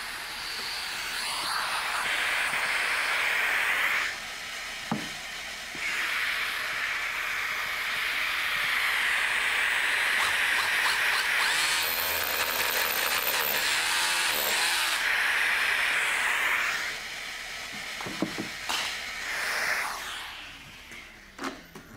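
A power drill fitted with an Xtra Hand dust-collecting attachment linked to a vacuum whines through several bursts of drilling, loud and close, with short pauses between runs.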